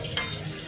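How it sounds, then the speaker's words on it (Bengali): A fish head fries in a pan of oil, giving a soft, continuous sizzle with a brief stir or scrape near the start, heard close and quiet. "এটাই মাছের মাথা ভাজছে, মাছের মাথার তরকারি হবে"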